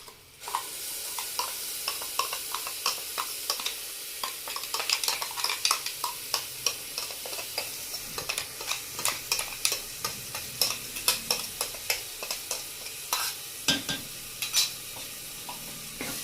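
A ground wet paste is stirred into fried masala in a pan for a papdi bean vegetable dish, giving a steady sizzle with repeated scraping strokes that grow busier partway through, close and moderately loud with no talking.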